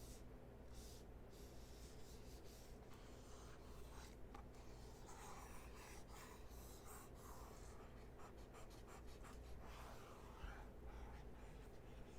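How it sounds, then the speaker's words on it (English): Soft, steady scratching and rubbing of a stylus sliding across a hard surface, with short strokes and pauses, quiet and close. "this is what it sounds like when I'm drawing on a tablet."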